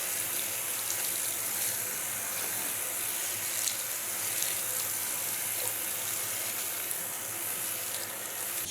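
Hair being rinsed of bleach under a running tap: a steady, close hiss of flowing water that continues evenly throughout without pause.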